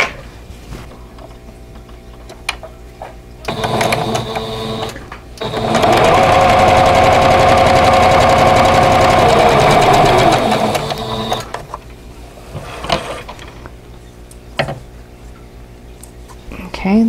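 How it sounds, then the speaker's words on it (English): A sewing machine stitches quilt block pieces corner to corner for a vintage block, running in a short burst and then a longer steady whirring hum, with quieter handling noises and some talking before and after. "I will sew from this corner to that corner."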